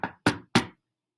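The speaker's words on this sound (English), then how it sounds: "the minute I knocked on the door" Three firm knocks on a door come in an even, quick rhythm, close and distinct, with silence after.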